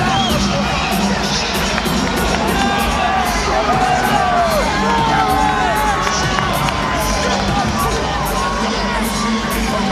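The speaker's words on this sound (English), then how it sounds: "giving Lennox Lewis a rousing reception as he comes to the ring" A showbiz crowd at a heavyweight boxing event roars and cheers for Lennox Lewis walking to the ring, a dense, loud, continuous wall of shouting and whooping with excited voices throughout.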